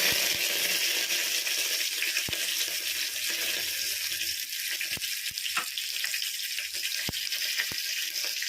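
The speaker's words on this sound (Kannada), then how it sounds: "ಚಟಪಟ ಆದಮೇಲೆ ಸ್ವಲ್ಪ ಕರಿಬೇವು," Curry leaves spluttering in hot oil with mustard seeds, a steady bright sizzle with scattered sharp pops and crackles close by, no one speaking.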